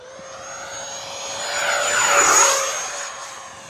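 FMS Yak 130 70mm electric ducted-fan RC model jet takes off and passes overhead, a steady high whine with a rising then falling sweep as it flies close by, loud throughout with no talk.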